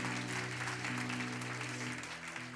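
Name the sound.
congregation applause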